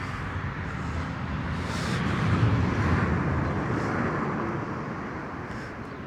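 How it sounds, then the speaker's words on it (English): A military jet fighter passes overhead above a suburban street on the Gold Coast, a broad distant roar that swells to a peak mid-way and slowly fades, with no voices. "No, it's a jet. That's a jet fighter."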